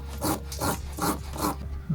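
A motorcycle valve is being ground into its seat with grinding paste. It gives a close, gritty rubbing sound in four or five quick back and forth strokes of even rhythm, with no talk over it.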